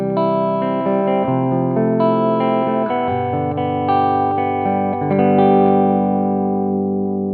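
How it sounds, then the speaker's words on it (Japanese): Electric guitar played through a Zoom G1 X FOUR multi-effects pedal with JS drive distortion, Fender Bassman amp and cabinet modeling and spring reverb, sounding a sustained, overdriven run of notes and chords that stays loud and alone, tailing off with reverb. "歪み JS ドライブが入って、でフェンダーのベースマンのモデリングと、フェンダーのキャビのモデリング、で、スプリングリバーブが最後に入ってます"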